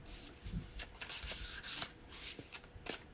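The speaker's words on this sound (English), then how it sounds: "Need to shuffle." Large tarot cards shuffled by hand, a close, continuous papery riffling and rubbing with repeated soft slaps as the deck is worked, no voices.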